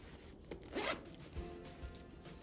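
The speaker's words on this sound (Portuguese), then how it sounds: "Deixa eu verificar se tá certinho o zíper." Zipper on a handmade fabric glasses case being pulled and checked, a soft close rasping zip with a brighter sweep in the middle and a few lighter rubbing strokes after, quiet and alone.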